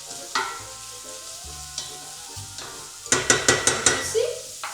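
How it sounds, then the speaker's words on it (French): Onions sweating in a pan for an asparagus risotto, giving a soft steady sizzle under intermittent spoon scrapes and stirring taps, with a burst of quick clinks toward the end. "maintenant, on va finir de suer nos oignons"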